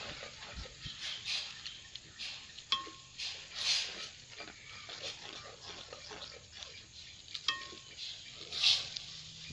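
Sauteed vegetables being stirred in a pan while a liquid is mixed in, soft sizzling under intermittent scraping and clinks of a utensil against the pan, close and fairly quiet.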